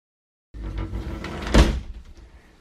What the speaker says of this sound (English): There's a little lock here to lock the door for travel.